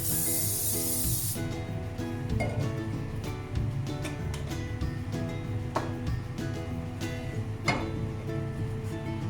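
Vegetable oil sprayed from a can onto a non-stick pan over medium heat, a loud broadband hiss in the opening second and a half, followed by faint clinks and sizzling in the kitchen.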